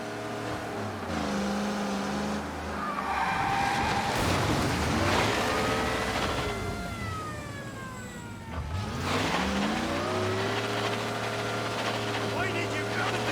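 Car chase in the video game Mafia Definitive Edition, with roaring engines, sliding tyre screeches and a police siren rising and falling, under dialogue.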